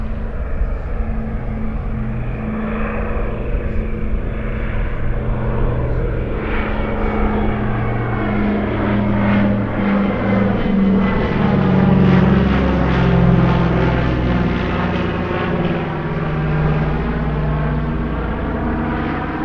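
A Catalina flying boat makes a low pass over the runway at a warbirds airshow, its piston engines and propellers droning steadily, growing louder toward the middle and then easing as it passes.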